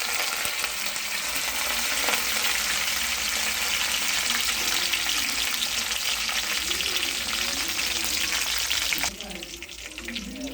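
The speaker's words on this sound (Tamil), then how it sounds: "கடலைப்பருப்பும் போட்டிருக்கேன். அது பொரியட்டும்." Chana dal and urad dal fry in hot oil for a tempering over old rice, with curry leaves and green chillies added, making a loud, close, continuous crackling sizzle that drops abruptly quieter near the end.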